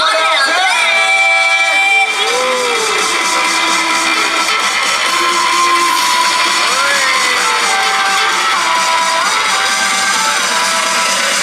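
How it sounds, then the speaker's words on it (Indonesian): Crowd cheering and whooping for a 1915 Ford Model T at a large transport museum, a loud steady roar of many voices with shouts rising above it throughout, alongside music. "Boleh dong tepuk tangan untuk Ford Model T."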